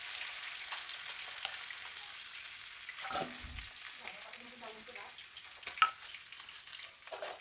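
Fish sizzling in a frying pan in a home kitchen, continuous crackle with occasional utensil knocks and shuffles, no voices.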